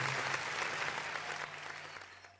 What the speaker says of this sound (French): Des applaudissements s'il vous plaît pour les deux équipes.